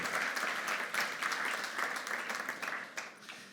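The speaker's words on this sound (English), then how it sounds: "a really warm applause for Jess" Warm applause from a conference audience at a business summit greets a speaker, a dense, even patter of many hands clapping at a distance, fading slightly toward the end.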